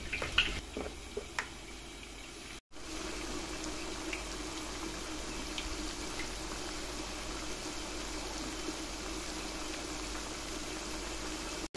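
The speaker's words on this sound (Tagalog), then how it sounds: "So, ito na nga, nagsisimula na ako mag-prito." Butternut squash pieces frying in hot oil, a steady close crackle and hiss that runs throughout, with a short gap near the start and no talk.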